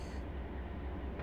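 Freight train rolling along in the Run 8 train simulator game, a steady low rumble of wheels and engine with the dynamic brakes applied, continuous and even with no voices.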